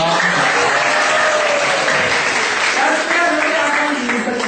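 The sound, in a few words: audience applause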